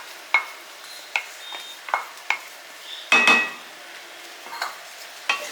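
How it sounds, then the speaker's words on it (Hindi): Nut, raisin and crushed peanut powder kachori filling stirred by hand in a bowl, giving sharp intermittent scraping and clinking strokes at an uneven rhythm, close and moderately loud with no talking. "अब इसे हम अच्छी तरह से मिक्स कर लेंगे इसके अंदर।"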